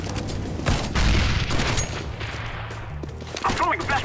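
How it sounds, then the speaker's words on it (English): In a Counter-Strike style shooter, a grenade blast and a burst of rapid gunfire ring out loudly up close, followed by a shouted voice near the end. "Grenade!"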